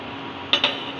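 Food is put into a metal cooking pot, making two quick, close clinks in a row against a steady background hiss.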